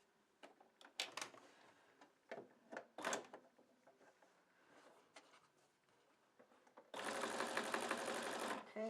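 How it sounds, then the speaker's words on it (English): Quiet clicks, taps and handling noises of fabric and rope come first, then a sewing machine bursts into a loud, steady whirring run near the end, stitching rope cord for a basket handle. "I'm going to stitch until where my joint is."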